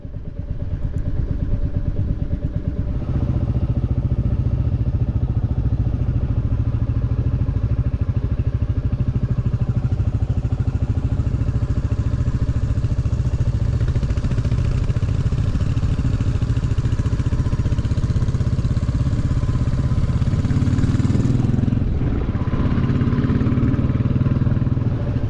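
Royal Enfield motorcycle riding along a road, a loud steady engine drone with a mechanical clatter and slight shifts in pitch, wind rushing throughout and no talking.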